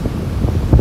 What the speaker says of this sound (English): Hopefully y'all can hear me with this wind.